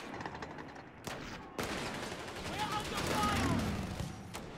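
Machine gun fire in a WWII strategy video game, with bursts of rapid shots and sharp reports among distant battle noise, fairly loud and continuous over a few seconds.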